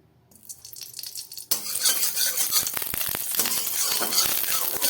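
Ghee hits a hot wok and starts to sizzle for a caramel sweet rice dish: a sudden, loud hiss that stays steady and close, with a few faint clinks before it.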